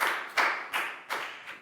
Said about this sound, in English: Big round of applause for Pat, please, guys